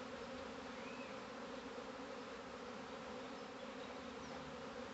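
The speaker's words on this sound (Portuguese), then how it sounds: "Tem abelha com força." A swarm of honeybees (Apis) arriving, a dense continuous buzzing hum that holds steady throughout, faint and diffuse as if the insects are spread in the air around, with no voices.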